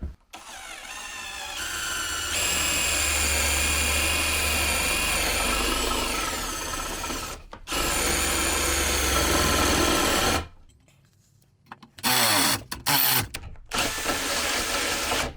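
A Dnipro-M Compact cordless drill drives a 13 mm bit, its motor whining steadily through two long runs, then dropping out and revving in several short bursts, close and loud.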